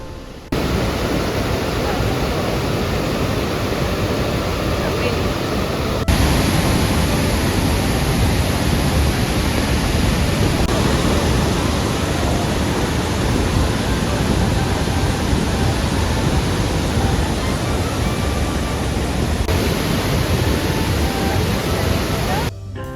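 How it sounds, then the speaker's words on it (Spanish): Iguazu Falls on the Argentine side, a powerful waterfall with a huge flow, heard as a loud, constant, broadband roar that fills the whole stretch without letup. "Realmente solo queda disfrutar escuchando y mirando la fuerza del agua."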